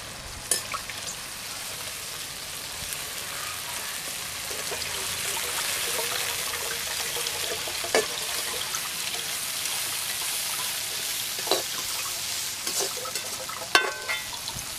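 Ingredients for a village-style fish curry dry-roasting in a pan, a continuous close sizzle and crackle with occasional stirring scrapes and sharp clicks, and no talking.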